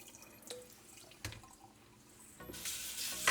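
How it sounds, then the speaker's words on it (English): Washed sushi rice tipped into a basket, with soft splashes and drips of water draining off, a few sharp trickles early on and a louder rush of pouring water toward the end. "We're gonna dump this rice out into a basket so we can drain the water out."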